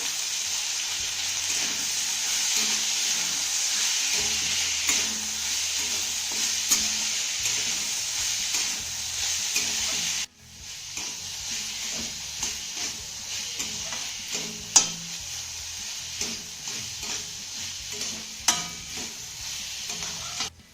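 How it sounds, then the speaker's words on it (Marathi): Cooked jowar sorghum is stir-fried in a pan for khichdi, a continuous sizzle and scraping stir that briefly drops off midway, then returns with repeated utensil scrapes and taps against the pan. "आता ही घातलेली ज्वारी ना 1 मिनिटभर चांगली परतून घेऊया."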